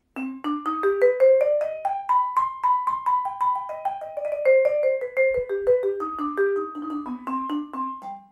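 A clean melodic instrument plays a minor-major pentatonic scale (1, 2, flat 3, 5, major 7) slowly up and back down, single notes in steady even rhythm, alone with no talking.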